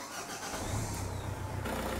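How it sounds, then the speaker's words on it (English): A vehicle engine starts during fuel-injector cleaning work, cranking briefly and then catching into a low, steady idle, captured close and fairly faint. "and then start the vehicle."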